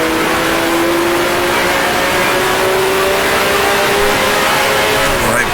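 A 1966 Formula One race car in Grand Prix Legends, accelerating hard out of the Parabolica corner at Monza, its loud, close, high-revving engine whine climbing steadily and continuously throughout.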